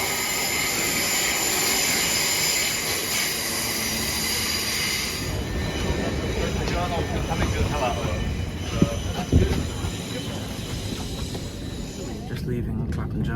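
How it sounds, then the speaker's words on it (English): Southern passenger train pulling away from Clapham Junction, a steady loud rumble and hiss of wheels and traction with a brief squeal near the end, heard from on board or close by. "here is my southern train that will take me to Battersea Park"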